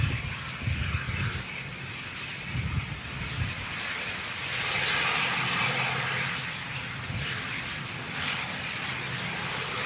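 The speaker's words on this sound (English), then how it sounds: "The second go around for this Ryanair in from Belfast" A Ryanair airliner in from Belfast goes around in stormy conditions, a broad, distant jet roar swelling and fading amid heavy wind buffeting, with no clear voices.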